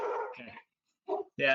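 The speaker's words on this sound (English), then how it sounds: "Sorry about the dogs there." Dogs barking indoors at a passing mailman, a couple of short sharp barks mixed with a man's brief spoken words.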